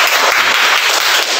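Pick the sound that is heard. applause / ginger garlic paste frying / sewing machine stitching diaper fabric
applause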